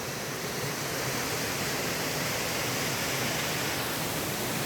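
Steady, dense rush of a waterfall in the West Karbi Anglong hills near the Meghalaya border, a constant broadband roar with no breaks, heard alone and fairly close.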